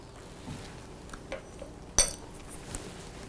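A metal spoon clinks against a mixing bowl of banana bread batter in a quiet kitchen, a few soft taps followed by one sharper, brighter clink and a light scrape.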